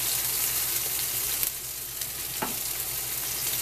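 Chorizo sizzling and spitting hard in a cast iron pan, a dense steady crackle of frying fat close up, with a few sharper pops and splatters breaking through.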